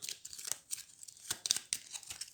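Hero Realms game cards being shuffled, a quiet series of soft papery riffles and flicks in irregular bursts, close by with no talk.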